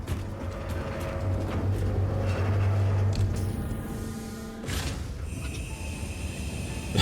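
A train in the factory-building game Satisfactory pulls away, a steady low mechanical rumble and hum with tonal drones that shift partway through, continuous and fairly loud.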